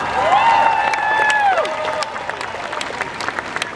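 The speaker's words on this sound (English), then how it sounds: "Let's give a round of applause." An audience at a rally applauds and cheers steadily throughout, with a voice calling out over the clapping early on.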